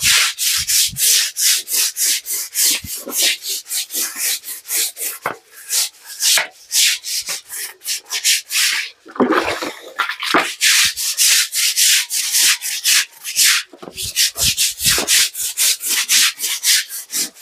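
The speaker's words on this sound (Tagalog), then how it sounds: "kailangan brush natin para matanggal po ang mga dumi" A hand brush scrubs dirt off a surface during manual cleaning, with rapid, steady back-and-forth strokes that stay close and loud throughout and pause only briefly now and then.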